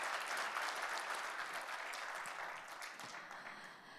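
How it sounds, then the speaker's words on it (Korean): A seated audience at a labor culture awards ceremony gives a fairly distant round of applause to a union leader who has just spoken, a dense clapping wash that slowly thins out toward the end. "다시 한번 박수 주시기 바랍니다"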